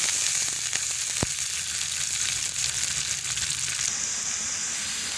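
Garlic dropped into light-brown onions frying in a pan, giving a loud, dense, continuous sizzle with one sharp tap partway through; no one talks.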